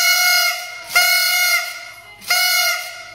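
Three long, loud blasts come from an old whistle blown in a home kitchen. Each is a bright, steady multi-tone shriek lasting about a second, separated by short breaths.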